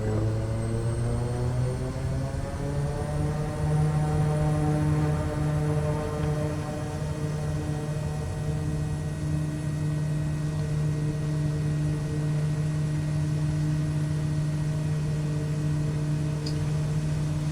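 A propeller airplane taking off from a bush strip in Papua New Guinea, engine droning steadily at high power as it climbs out, a constant close roar with a slight rise in pitch early on.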